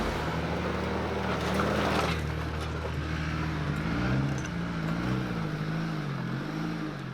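A camera car being driven over rocks, punched for momentum to climb up and over, gives a steady engine drone that rises and falls, with a loud, close, continuous rumble throughout and no talk.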